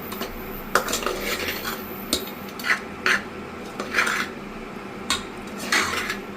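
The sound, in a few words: mixing puliyogare with coriander leaves in a pot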